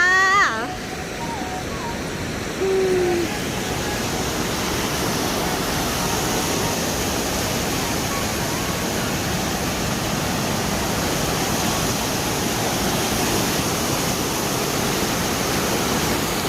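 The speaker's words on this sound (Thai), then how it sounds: "น้ำไหลแรงตรงเนี้ย" Strongly flowing water near the Lion Monument in Lucerne, Switzerland, a loud, steady roar of rushing water after rain, with a brief voice over it at the start.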